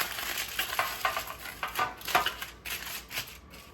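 A sheet of tin foil is pressed and shaped into a 9x13 pan, making a series of close, irregular crinkles and crumples in short bursts with brief pauses between them.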